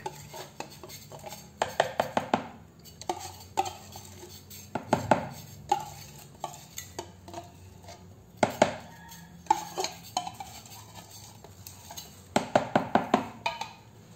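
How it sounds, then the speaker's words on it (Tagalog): Buko pandan salad with young coconut and condensed cream being stirred in a container, a spoon clinking and scraping in irregular clusters of sharp taps, close and moderately loud, no speech. "haluin lang natin"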